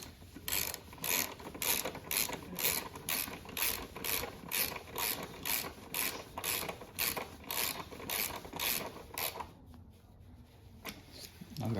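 A ratchet tightens the bolts on a Honda CBR 650R integrated taillight mount, clicking in a steady, rapid rhythm of repeated strokes that stops briefly near the end and then starts again, close up and fairly loud.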